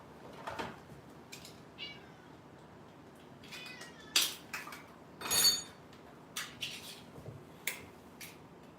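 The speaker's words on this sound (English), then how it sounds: "let me feed the kitty cat." A house cat meows a few times at feeding time, short sharp calls standing out close to the microphone amid quiet clicks and small clatter of dishes, no one speaking.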